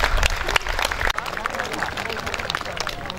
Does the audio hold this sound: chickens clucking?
no